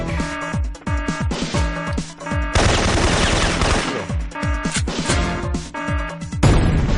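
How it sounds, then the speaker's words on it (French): Rapid gunfire and explosive grenade blasts in a first-person shooter game, loud and dense with repeated bursts and a sustained roar of blasts filling the whole stretch. "Je joue à la grenade."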